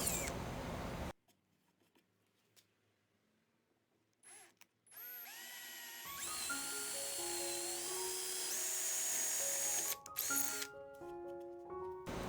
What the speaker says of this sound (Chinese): 我先用电钻，在要开槽的位置呢钻2个洞